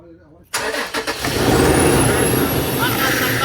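A Toyota 4Runner engine turning over and catching, then settling into a loud, steady idle with a faint high whine, heard up close.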